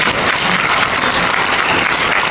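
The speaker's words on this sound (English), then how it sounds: "We clap for Father" An audience applauds for a priest after his talk, a dense, steady wash of clapping that fills the whole stretch with no pauses.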